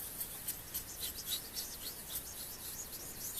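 A steel kitchen knife is drawn back and forth across a Japanese water stone in quick, even, gritty strokes, close up and fairly quiet, with no voices.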